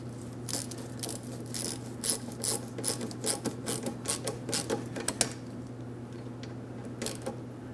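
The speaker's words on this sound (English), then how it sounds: "when you are tightening this clamp, when it's in the right position" Hose clamp being tightened on the fuel tank filler neck of a 2008-2016 Chrysler Town & Country 3.8L V6, giving close, repeated rasping and ratcheting clicks in uneven bursts over a steady low hum.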